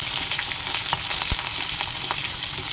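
Mustard seeds and five red chilies fry in oil as part of making mango rice. The sizzle is continuous and close, with a few small pops and stirring taps, and no one speaks.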